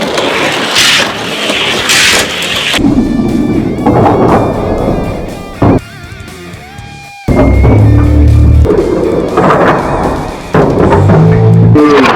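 Hot Wheels Woody toy car racing down a long toy track: a rolling, rattling rush of plastic wheels on track with thumps and clatter, fairly loud, ending in a sharp knock and busier clatter.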